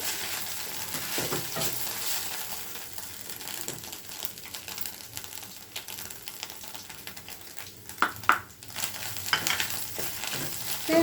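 Scrambled eggs frying in a pan with chili powder and green chilies, a steady close sizzle with spatula stirring and scraping, a few sharper clatters near the end, no talking.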